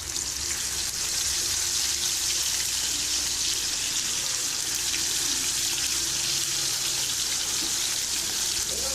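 Chicken pieces fry in hot oil on a dosa griddle, giving a loud, dense, unbroken hiss that holds steady from start to finish.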